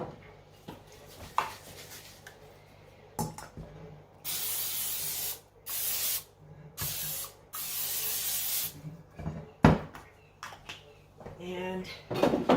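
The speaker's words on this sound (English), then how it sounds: "I'm going to spray it with some original Pam." Aerosol can of original Pam cooking spray sprayed onto a casserole dish in a home kitchen, four loud bursts of hissing, each a second or two long, separated by short pauses, with kitchen clatter around them.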